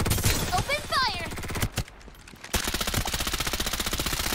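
Rapid automatic gunfire in the video game Farlight 84, loud and close, with a voice shouting over the opening shots, a short pause, then a steady stream of fast rhythmic shots.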